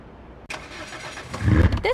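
A rally car's engine in V-Rally 4 starts up after a short quiet lead-in, then runs with a low, rising rumble that grows louder near the end, with no talking over it.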